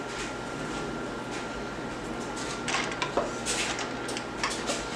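A metal spoon scoops cooled, cooked jasmine rice in a baking dish for a chicken and rice casserole, giving soft clinks and scraping scrapes over a steady background hum.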